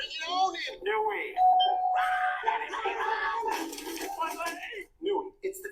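A doorbell chime from a TV rings amid excited voices and dogs yelping, busy and close, with people talking over it.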